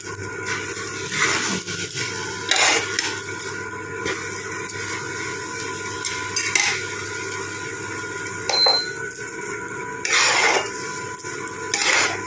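Chopped banana flower and prawns stirred with ghee and garam masala in a pan, a steady scraping and rasping of a spatula against metal with short louder strokes, close by and without speech.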